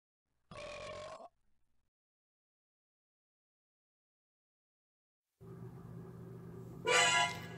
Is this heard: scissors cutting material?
no